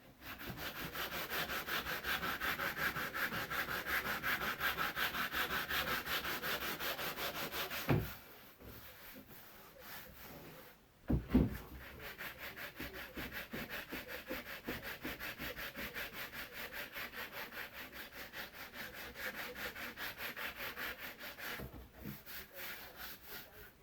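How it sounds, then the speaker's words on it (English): Sandpaper rubs steadily over a Land Rover Series 3 dash pad in rhythmic back-and-forth strokes, close and even, with two brief pauses partway through and no talking. "I'll finish with a finer sandpaper."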